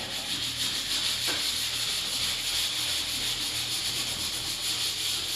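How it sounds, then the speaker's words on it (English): Steady, close abrasive rubbing of sanding across the panel lines of a vehicle body, a continuous broadband scrape with even strokes running throughout with no talk. "it sands extremely fast at this point"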